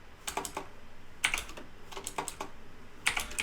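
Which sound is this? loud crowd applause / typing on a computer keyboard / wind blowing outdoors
typing on a computer keyboard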